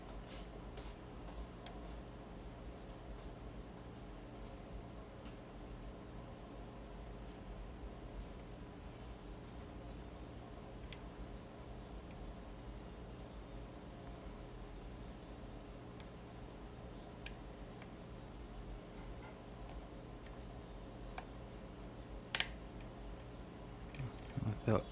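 Levers drop inside a vintage four-lever mail lock being picked with an Allen wrench, heard as sparse, faint, sharp metallic ticks over a quiet hiss, with a louder click cluster near the end.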